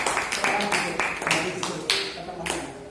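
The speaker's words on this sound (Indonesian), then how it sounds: "Tepuk tangan" A small group, likely a classroom, gives a short burst of clapping in several uneven rhythmic clusters, fairly close. A voice is faintly present under it.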